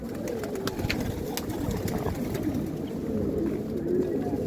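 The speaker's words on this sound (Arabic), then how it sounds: "نكلف الحمام" Domestic pigeons coo in a loft, a steady, overlapping chorus of soft, throaty calls that runs close and continuous throughout without pause.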